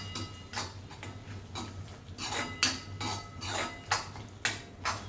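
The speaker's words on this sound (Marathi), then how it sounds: "शेवटी टाकायचा शेंगदाण्याचं कूट आणि मिक्स करून घ्यायचं." Crushed peanuts are stirred into ridge gourd bhaji in a pan, a quiet series of spaced scraping and clinking strokes of a spoon against the pan, about ten in a few seconds.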